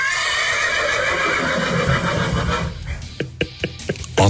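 A horse lets out a loud, drawn-out neigh close by, followed by several sharp hoof clip-clops in an irregular rhythm.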